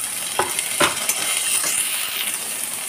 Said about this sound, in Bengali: আলুটা আর গাজরটা কিছুক্ষণ ভেজে নিয়ে দিয়ে দেব বরবটি